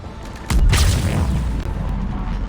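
Heavy cannon fire in the video game Mass Effect 3 gives a single deep, booming blast that rises suddenly and rolls on as a loud, sustained rumble with rushing noise.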